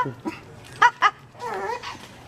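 Short barks and yips from a puppy at a neighborhood party in Mexico, two sharp close bursts followed by a longer whining yelp, with people chatting around it.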